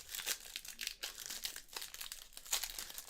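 Packs of multi-year MLB trading cards being ripped open, a steady close crinkling and tearing of foil wrappers, quiet and continuous without talk.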